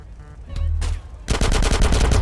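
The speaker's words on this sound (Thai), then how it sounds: "อืมยิงถังครับยิงถัง" Rapid automatic gunfire in GTA San Andreas, a short burst followed by a sustained loud stream of shots fired close by, with no talking over it.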